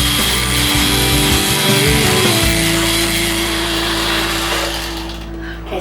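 Electric mixer creaming butter and sugar for a Victoria sandwich cake in a bowl, a loud steady motor whir with irregular beater clatter early on, then a smoother continuous hum that fades slightly near the end.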